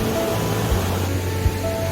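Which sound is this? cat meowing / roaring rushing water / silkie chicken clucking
roaring rushing water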